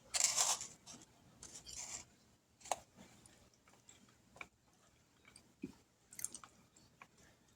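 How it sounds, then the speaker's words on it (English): Someone eating a plate of fried cabbage and fried potatoes, with close, crisp chewing and biting noises in irregular bursts and short pauses between bites. "So let's taste it now and see what it tastes like."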